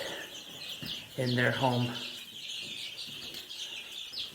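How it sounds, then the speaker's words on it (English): Chickens in a brooder give soft clucks and chirps at close range, with a brief louder burst of calls in the middle, while a person speaks over them. "The chickens are back"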